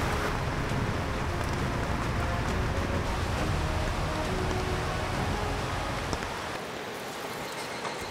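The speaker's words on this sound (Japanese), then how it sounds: "今までに聞いたことがないぐらいの雨音ですね" Torrential rain under a heavy-rain warning pours onto a Coleman Tough Screen 2-Room camping tent, a loud, dense, continuous drumming close overhead that eases slightly near the end.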